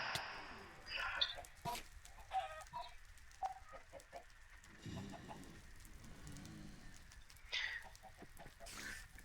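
Chickens in the Minecraft modpack Ragnamod VII: scattered clucks and short squawks pop up at intervals over a steady rain-like patter of game ambience, moderately loud, no speech.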